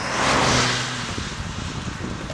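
A Fiat Qubo's 1.4-litre petrol four-cylinder idling and revving briefly, a loud close engine hum that swells and then settles into a steady running note with no voices.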